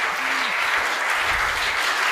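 Audience clapping at a Hindi comedy poetry recital: steady, dense applause from a crowd, filling the whole moment with no voices over it.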